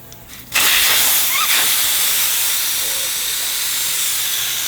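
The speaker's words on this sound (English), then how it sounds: "Let the tire fully deflate." Air hisses out of a tire after its valve core is removed. The steady, loud rush starts abruptly and continues unbroken as the tire deflates.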